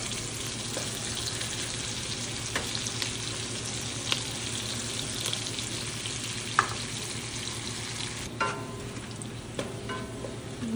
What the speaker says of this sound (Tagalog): Pwede na natin igisa yung ating luya tsaka sibuyas. Lagay ko na rin yung bawang.